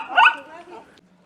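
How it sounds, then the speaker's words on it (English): A dog barking at a handbag inside a camper, one sharp close bark trailing into a short whine, loud against a quiet background. "Stop barking at the handbag."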